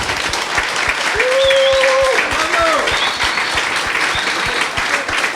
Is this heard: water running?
no